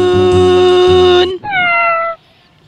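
A cat gives two drawn-out meows in quick succession, the first long and loud and the second shorter with a rising then falling pitch, close up, followed by quiet.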